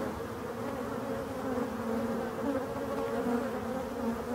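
Dense droning buzz of bees with a hornet around a beehive in late-season winter conditions, a steady close hum with no breaks and no voices.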